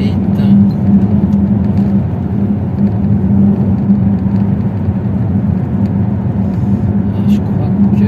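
A car cruises steadily along a road limited to 70, giving a constant low rumble and whir of engine and tyres heard from inside the car for several seconds.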